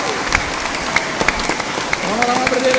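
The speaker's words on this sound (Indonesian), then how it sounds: "Sekarang kepada Romo-Romo ini tepuk tangan." Church congregation clapping for the priests, brief scattered claps under a voice and some sustained tones toward the end.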